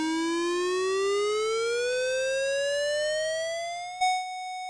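A tsunami warning siren in Tobago gives a loud, steady electronic wail that climbs slowly in pitch for about four seconds, then cuts off sharply and leaves a brief quieter tone.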